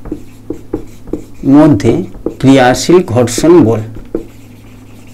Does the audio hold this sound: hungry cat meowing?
no